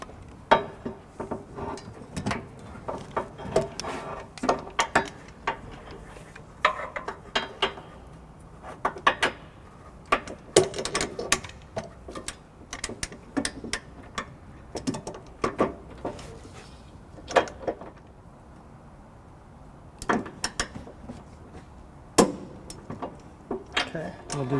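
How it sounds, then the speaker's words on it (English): An 11/16 socket on a ratchet with a 6-inch extension and swivel torques trailer hitch bolts on a 2013 Subaru Crosstrek, giving sharp clicks and ratcheting bursts in irregular clusters, close and moderately loud, over faint background. "we're going to go ahead and torque all the bolts down to the manufacturer's specs"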